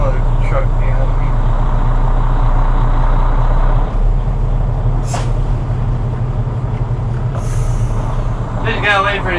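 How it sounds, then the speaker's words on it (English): A truck idling close behind with a deep steady diesel rumble, a brief hiss of air brakes near the end and a few short squeaks; someone talks over it. "I know there's a truck behind me."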